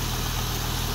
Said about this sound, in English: The engine's nice and quiet. It runs great.